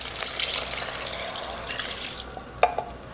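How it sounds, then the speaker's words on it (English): Homemade chicken bone broth pours into a pot in a steady, soft liquid rush, ending with a couple of small splashy clinks, with no talking. "I'm gonna pour in 4 cups of my own homemade chicken bone broth"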